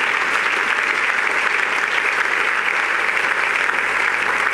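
A church congregation at an Easter celebration breaks into steady, loud applause, a dense continuous clapping that fills the room for several seconds.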